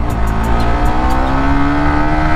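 A Suzuki GSX-R150 motorcycle engine drones steadily and loudly up close while riding, a constant mechanical hum with slight shifts in pitch and some wind noise.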